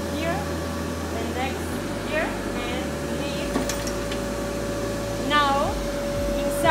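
Blower of a Show Games mechanical arcade game machine running after switch-on, a steady broad whoosh of moving air with faint electronic chirps and tones over it.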